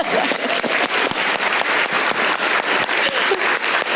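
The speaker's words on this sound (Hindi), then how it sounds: "एक बार तालियां होंगी" A TV show studio audience claps steadily for about four seconds, a dense, even round of applause with no other sound standing out.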